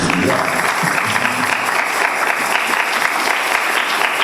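A church congregation applauds steadily and loudly throughout, a dense wash of many hands clapping, with a few voices briefly rising in the crowd near the start.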